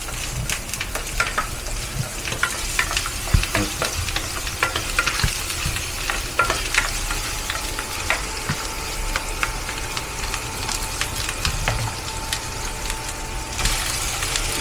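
Pork ribs fry in a pan with a steady, loud sizzle, while a spoon scrapes and taps as they are stirred at irregular moments close by.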